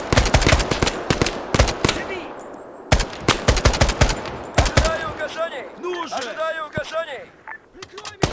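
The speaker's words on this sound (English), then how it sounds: "let's put some covering fire downrange" Automatic gunfire in a military shooter video game, loud rapid bursts of close rifle and machine-gun fire with echoing cracks, pausing briefly before more shots, while voices talk in between.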